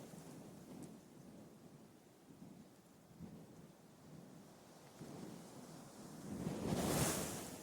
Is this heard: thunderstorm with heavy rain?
yes